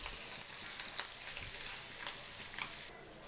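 Pre-cooked mutton pieces coated in masala fry in hot oil at medium heat, giving a steady close hiss and crackle with a few light stirring touches and no talking.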